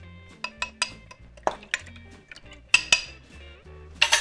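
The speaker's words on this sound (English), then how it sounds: "we're gonna put that in and stir along as we go" Metal utensil clinks and scrapes against a pot as curry thickened with cornstarch is stirred over a boiling fire, giving a series of sharp irregular clinks with quieter stirring between them.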